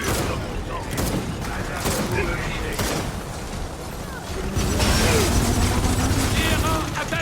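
Rapid gunfire in the video game Gears of War 4, with dense bursts of shots and battle noise running steadily throughout, rising louder toward the end, while someone speaks over the action.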